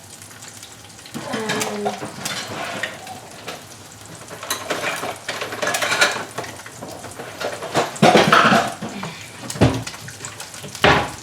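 Food sizzles steadily on a flat top griddle, a continuous crackling hiss that swells and fades over the clip, with a brief spoken word near the start.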